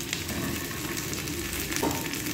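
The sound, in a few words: fried chicken added to a pan and tossed with curry leaves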